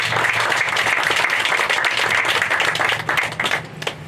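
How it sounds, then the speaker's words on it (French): Audience applause at a shared community garden event, a dense steady clapping from a crowd that holds strong for about three seconds and then thins out and tapers off. "Donc on peut applaudir Sandrine parce qu'elle a le succès modeste,"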